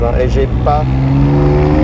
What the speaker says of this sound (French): le bruit des turbos